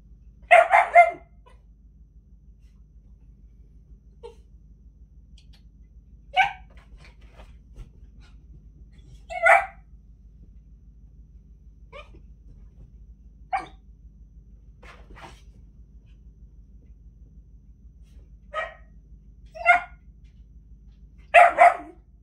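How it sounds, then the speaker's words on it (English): A dog barks during a training session, giving short, sharp barks spaced irregularly over about twenty seconds. A few come in quick pairs, and the quiet stretches between them carry only a low background hum. "Now we're getting a little bit of a problem here with that little barking"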